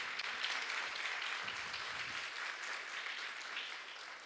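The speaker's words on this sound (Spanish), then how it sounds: "Denle un aplauso al Señor, sí." A church congregation applauds steadily throughout, a dense, even wash of clapping heard from some distance, with no talking over it.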